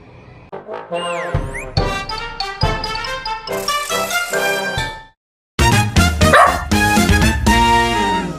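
A dog barks repeatedly in quick, sharp, close yips, with a brief pause before another burst of loud barking.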